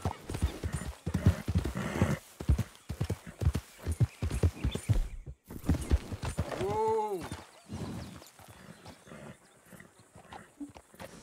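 Horse hooves clip-clop steadily in the video game Red Dead Redemption, with occasional whinnies, moderately close under intermittent talk.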